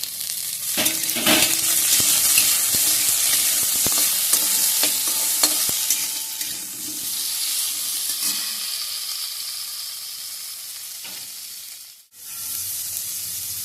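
Three medium tomatoes with garlic fry loudly in a pan, a bright steady sizzle broken by scraping and clicking stir strokes, easing off briefly before the hiss picks back up.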